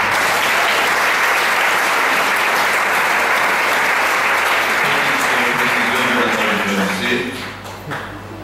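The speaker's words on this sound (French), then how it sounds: "Alléluia, nous l'acclamons bien fort" Church congregation applauding loudly and cheering for a visiting bishop, a dense continuous wall of clapping that thins out toward the end as voices emerge beneath it.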